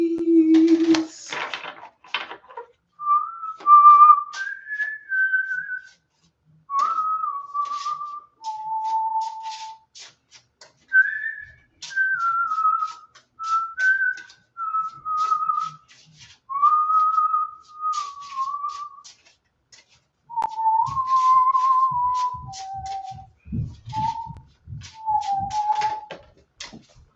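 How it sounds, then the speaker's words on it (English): A person whistles a wandering, playful tune in a sequence of short sliding phrases and held notes, close and fairly clear, with brief pauses and a few soft knocks and rustles around it, ending among light tapping sounds. "Why did I just start whistling?"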